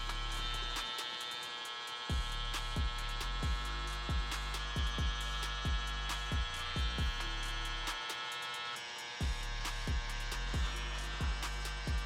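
Electric hair clippers run steadily while a barber cuts a fade, a close continuous buzzing hum broken by repeated short strokes and a couple of brief pauses, with no talking.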